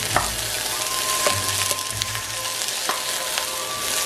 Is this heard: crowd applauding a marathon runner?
no